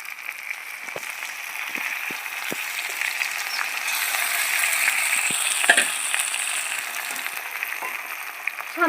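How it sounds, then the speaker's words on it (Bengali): Marinated chicken masala for chicken chaap goes into a hot pan, giving a steady close sizzle with scraping stir and clicking utensil sounds throughout, no talk. "মাংস মেখে রেখেছিলাম সেই মশলাটা আমি দিয়ে দিচ্ছি"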